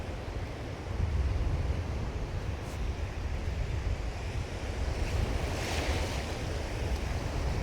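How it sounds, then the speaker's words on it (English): Constant roar of surf breaking and washing over a sandbar on the Holderness coast at Easington, with wind buffeting the microphone throughout; no voices. "You know, the surf on that bar."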